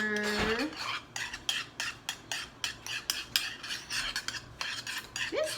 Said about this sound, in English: Now I'm going to mix it. Stir it, stir it,